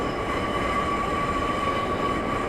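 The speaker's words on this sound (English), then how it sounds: "I'm just going to allow the train to continue to coast" Class 142 Pacer train coasting in Train Simulator 2015 on the Darlington to Middlesbrough route: a steady loud rumble of wheels on rail with a constant thin high whine running throughout, no talking.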